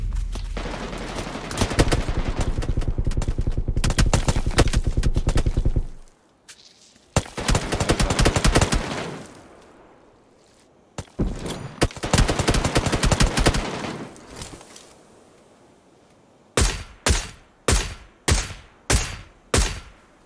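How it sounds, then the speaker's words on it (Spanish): Video-game gunfire in PUBG Lite: long bursts of rapid automatic shots with pauses between, then five sharp single shots evenly spaced at the end, loud and close. "¿oíste todos los tiros que le metí?"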